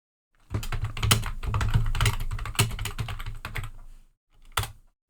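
Rapid clattering keystrokes on a computer keyboard, heard up close as a dense burst of typing for several seconds, then a short pause and a final few taps.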